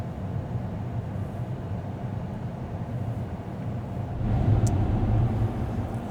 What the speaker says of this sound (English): All right, let's go through a wash and check this thing out.